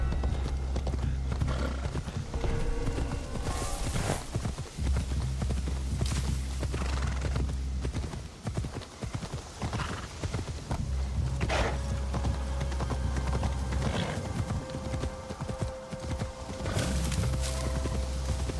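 A horse in a video game clip-clops along in a steady walking rhythm of hoof beats, with a few whinnies and neighs breaking in now and then. The hooves sound close and continue for the whole stretch, with no speech over them.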